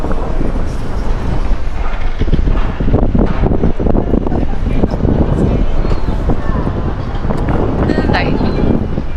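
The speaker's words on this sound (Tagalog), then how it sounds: "super lakas talaga ng hangin." Strong wind roars and buffets the microphone steadily at a high viewpoint in The Hague, with people talking close by through the gusts.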